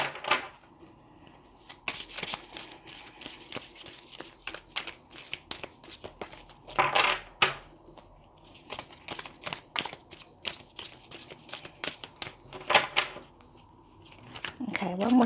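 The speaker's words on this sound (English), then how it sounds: "one more shuffle and then I'm going to pick one" Oracle cards being shuffled by hand, a run of quick crisp riffling and slapping bursts broken by short pauses, close and fairly quiet, with some soft talk mixed in.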